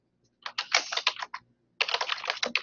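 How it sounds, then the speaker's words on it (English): Typing on a computer keyboard during a live writing session, two close, crisp bursts of rapid key clicks separated by a short pause, with no speech. "it's hard for me to type and think at the same time"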